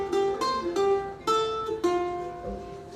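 A ukulele plays a short plucked riff, four clear notes ringing out one after another with sustain between them, close and alone.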